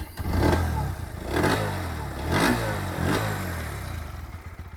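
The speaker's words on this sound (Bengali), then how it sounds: "এই বাইকটা আপনার এক্সস্টের সাউন্ড দেখাতে গেলে দেখুন আমি প্রথমে স্টার্ট করছি বাইকটা" A 2025 Bajaj Pulsar NS125 ABS motorcycle idles close by with a throaty exhaust note, rising into about four quick throttle revs spaced roughly a second apart. No one speaks.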